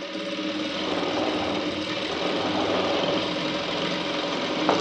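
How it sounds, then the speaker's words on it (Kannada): A sewing machine runs continuously while double-stitching a blouse, a steady close mechanical whir and rapid needle chatter at even speed throughout, alone without speech. "ಏನಿಲ್ಲಿ ಸ್ಟಿಚ್ ಮೇಲೆ ಇನ್ನೊಂದು ಡಬಲ್ ಸ್ಟಿಚ್ ಹಾಕಿ ಎರಡೂ ಕಡೆ ಅದೇ ರೀತಿ ಸ್ಟಿಚ್ ಮಾಡ್ಕೊಳ್ಳಿ."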